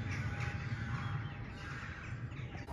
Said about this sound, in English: There's such a kerfuffle going on with the crows.